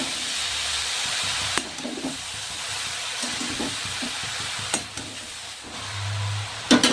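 A cauliflower filling with green chillies for gobi paratha fries in a pan. A continuous hissing sizzle runs throughout, broken by a few sharp clinks and stirring knocks, with no talk.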